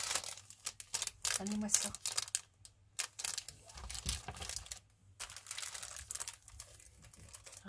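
Paper envelopes being handled and crinkled, with bursts of rustling and crackling spread across the clip, close and fairly loud, while someone talks excitedly over parts of it.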